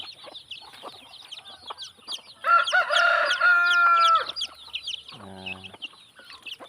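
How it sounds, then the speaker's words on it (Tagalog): Hens and chicks on a small backyard farm, with a stream of high, rapid chick peeps throughout, a burst of louder, overlapping hen squawks, and a short rooster-like call near the end, all fairly close. "At saka ito po mga sisiw."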